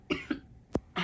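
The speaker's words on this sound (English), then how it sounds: "I coughed and it hurt all right here" A single sharp cough from a person with swollen tonsils, close and fairly quiet, following a couple of brief vocal bursts and then a louder burst of sound at the end.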